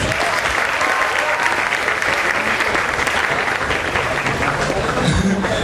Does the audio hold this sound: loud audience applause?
yes